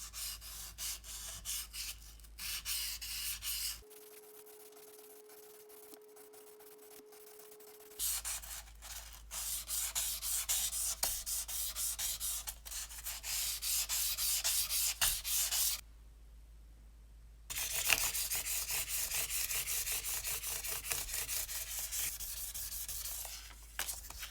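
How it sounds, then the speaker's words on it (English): Guitar frets on a Squier Bullet Strat are rubbed with 600 grit sandpaper, giving repeated rapid scratchy back-and-forth strokes in close, steady bursts separated by short quiet pauses. "we will start the polishing process with 600 grit sandpaper"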